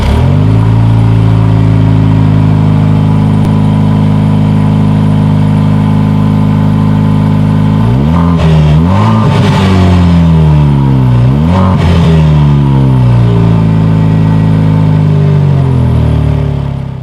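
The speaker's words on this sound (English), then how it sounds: "here is that exhaust clip." A 2020 Jaguar F-Type with the four-cylinder engine idles loud and close at the exhaust, then blips its throttle several times in sharp rising and falling revs, with a final burst before settling.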